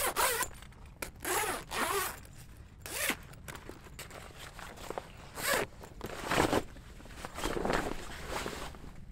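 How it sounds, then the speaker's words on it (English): A zipper on a bag is pulled up and down repeatedly, with sharp rasping strokes in an uneven rhythm and short pauses between them, close and clear. "Let's do the zipper test, like go up and down"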